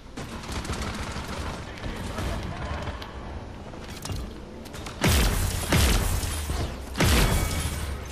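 Sniper rifle shots in the video game Paladins, three loud, sharp cracks spaced about a second apart in the latter half, over a busy layer of game sounds and battle noise.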